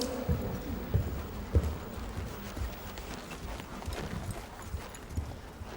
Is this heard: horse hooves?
yes